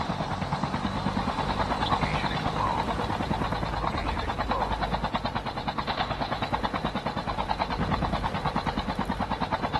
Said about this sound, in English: Get in the chopper or you get left.